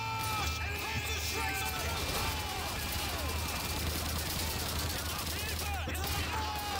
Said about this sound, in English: I'm being shot at from all angles